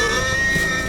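A deep, roaring animal call from a film scene of Maya hunters chasing a tapir in the jungle, given a Jurassic Park tyrannosaurus-style roar; one sustained, loud, dense bellow with no talk.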